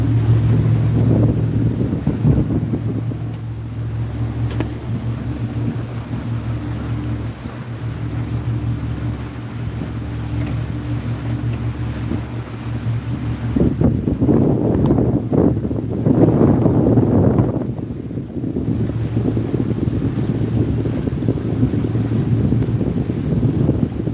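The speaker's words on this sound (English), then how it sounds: "Hopefully that wind ain't too bad." A steady, loud rush of wind buffets a boat out on open water, mixed with a low engine-like hum and the wash of waves, continuous with no talking.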